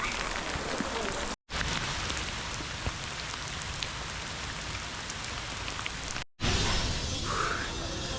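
Heavy tropical rain pours steadily at Borobudur temple in Java, Indonesia, a dense continuous hiss of drops striking stone and surfaces, loud and close, broken by two brief cuts, with no voices.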